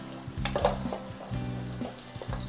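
A fish curry base fries in a pan as it is stirred; steady sizzling runs under repeated scraping strokes, close and moderately loud, with no talking.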